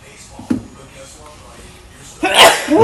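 A single quick sneeze bursts out near the start in a television studio, followed by a pause and then voices talking loudly nearby.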